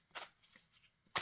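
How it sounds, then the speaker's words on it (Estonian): Playing cards are laid out on a table in a few soft, quick slaps and flicks, close and quiet, with a sharper snap at the end. "ma laon kõigepealt välja kaardid ja siis hakkame vaatama."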